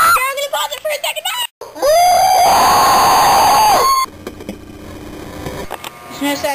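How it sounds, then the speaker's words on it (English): A loud, sustained scream at a cockroach, held for about two seconds between bursts of excited talking and shrieking voices indoors. "scream for the camera!"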